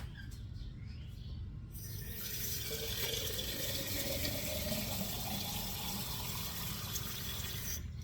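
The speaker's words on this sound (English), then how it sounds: "I fill this jar up with water right away because it's very hard to clean." Water pours steadily into a container, a continuous gushing rush that grows fuller after the first couple of seconds and holds to the end.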